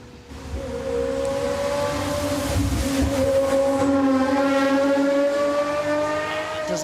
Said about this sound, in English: let's have a little quick listen into the roar of the V12 that makes its way up the hill